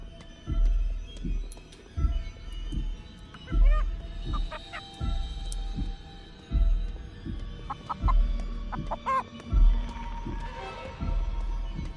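A chicken in the video game Chicken Feet clucks and squawks in scattered bursts over a thumping, rhythmic low game soundtrack, with the calls repeating irregularly throughout.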